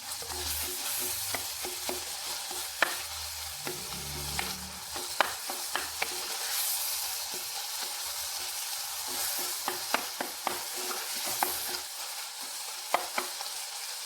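Tomatoes fry in a pan that sizzles and crackles steadily while a utensil scrapes and taps against it in scattered knocks, with no voices.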